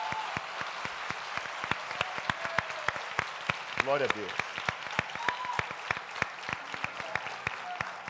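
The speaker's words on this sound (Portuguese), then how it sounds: "pode aplaudir ao Senhor" A church congregation at an evening baptism and Lord's Supper service claps in sharp, scattered bursts, fairly faint, while a voice speaks briefly over it.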